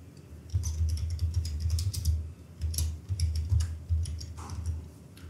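Steady keyboard typing as a job title is entered into an Excel data entry form: brisk, irregular clusters of close key clicks running the whole time, with no talk.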